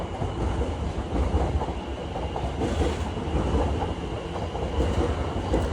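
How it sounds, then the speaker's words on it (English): Steady rumbling roar of several Class 720 trains passing close by, with rhythmic clickety-clack of wheels over rail joints and faint squeals. "trains running right beside it? Class 720s, multiple of them together"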